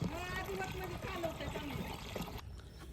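Water pours steadily into a 16-litre spray pump tank with a bubbling, trickling rush that stops abruptly near the end, with some background voices.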